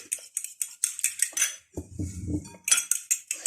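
A metal utensil stirs spices into an egg and vinegar marinade for chicken strips in a bowl, making rapid clinks and scrapes against the bowl with a short, duller churning stretch in the middle. No one speaks.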